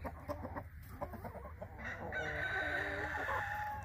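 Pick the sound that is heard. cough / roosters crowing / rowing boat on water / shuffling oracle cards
roosters crowing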